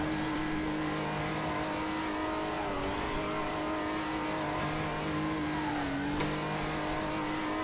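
A car engine in the Assetto Corsa racing game drones steadily at moderate volume, rising and dipping slightly in pitch as revs change, heard alone without talk.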